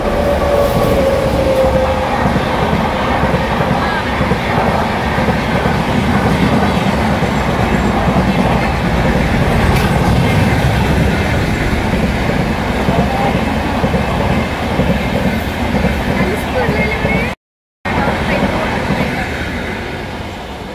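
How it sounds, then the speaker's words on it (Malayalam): A train pulls into a station and runs past, a loud, steady rumble of wheels and carriages over rail joints filling the whole stretch, with faint voices in the background. "അതാണ് വേറൊരു ട്രെയിൻ വരികയാണ് കേട്ടോ"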